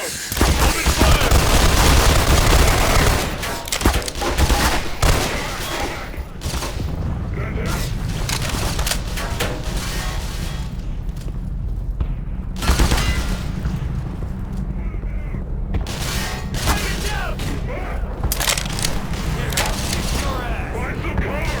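Sustained automatic gunfire and booming shots rage through a firefight in the video game Black Mesa: Blue Shift. The loud, dense bursts run almost continuously, with brief lulls, and are mixed with shouted voices and mechanical clatter.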